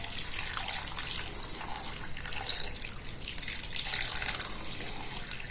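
Water poured into a pot of pork with prunes and orange juice, a soft steady trickling and splashing stream, faint and close, with no voices.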